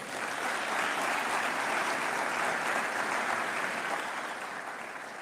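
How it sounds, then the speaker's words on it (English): Sustained applause from a graduating class at a 2023 graduation ceremony, a dense, even wash of many hands clapping that holds steady for several seconds before easing slightly toward the end. "give yourself a round of applause."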